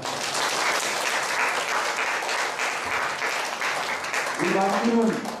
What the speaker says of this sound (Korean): 우리 막내 박수 한번 쳐주세요